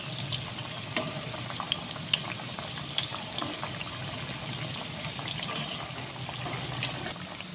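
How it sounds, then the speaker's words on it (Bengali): Banana flower koftas shallow-frying in oil over low heat, giving a continuous, even sizzle with light crackles, close up and with no one speaking. "এক পিঠ ভাজা হয়ে গেছে, আস্তে করে এপিঠ ওপিঠ করে ভেজে নেব।"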